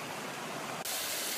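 Hot spring water flowing steadily in a mountain thermal pool, a loud, broad, continuous rush that swells sharply partway through, with no voices.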